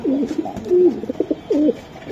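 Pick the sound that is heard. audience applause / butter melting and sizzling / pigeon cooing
pigeon cooing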